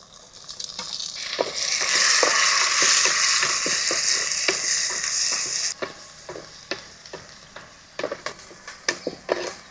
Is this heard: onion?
yes